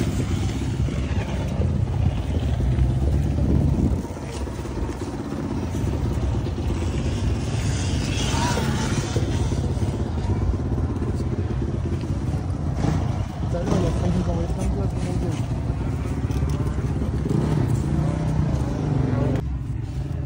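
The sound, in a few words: Honda CR250 motorcycle engine running after idle jet change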